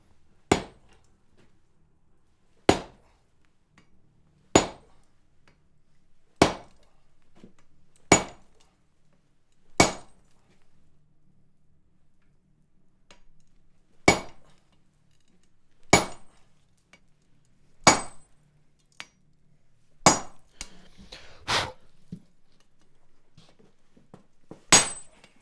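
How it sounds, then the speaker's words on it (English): Sharp metallic hammer blows ring out while hot steel is forged into a round swage, about a dozen hard, separate strikes spaced a couple of seconds apart, each with a short bright ring before quiet returns. "Next heat, I'll have you hit it first instead of using a flatter."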